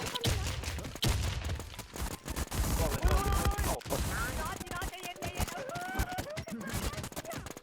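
Rapid bursts of video game gunfire crackle in dense volleys, mixed with game music and a talking voice, loud and close with short pauses between strings of shots.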